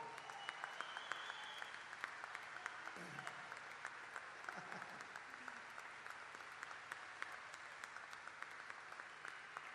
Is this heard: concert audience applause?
yes